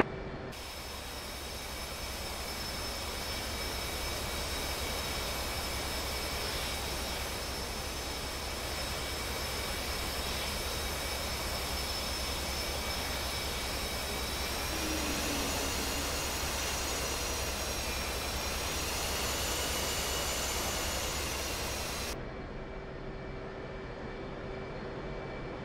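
A jet engine spooling up on an aircraft carrier deck in the DCS flight simulator, a loud sustained roar with high whining tones rising and bending, then abruptly cut off.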